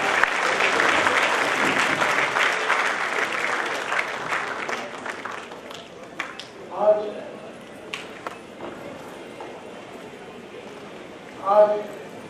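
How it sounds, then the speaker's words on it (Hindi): Loud applause from the audience at a Governor's event on the International Day against Drug Abuse and Illicit Trafficking, a dense burst of clapping that fades over several seconds, leaving scattered claps and a speaking voice. "जोरदार तालियां।"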